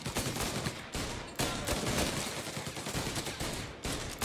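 Rapid, sustained Tommy gun bursts fire in Mafia Definitive Edition, loud and close, with brief gaps between long rattling volleys during a firefight.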